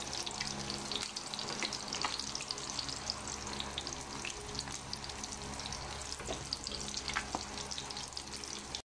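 An egg sizzles in a hot frying pan already seasoned with pepper and onion, a steady dense crackle of frying oil running loud and continuous throughout with no talk.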